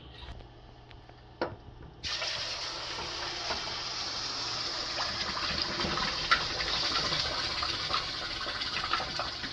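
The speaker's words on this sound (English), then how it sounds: "that sizzle Ooh, I love the sizzle sound" Tomato puree hits hot oil and curry in a pot for goat meat stew, a loud, close, steady hiss that starts abruptly after a brief quiet moment and a small knock, then keeps crackling on.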